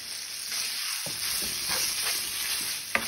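Marinated pork loin hits a hot pan for a stir fry with bell pepper: a bright, steady sizzle swells as the meat goes in, with a few spatula scrapes and a sharp clack near the end, no talking.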